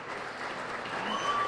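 A crowd at Democratic election night headquarters cheers and claps in a dense, steady roar that grows slightly louder over a brief moment.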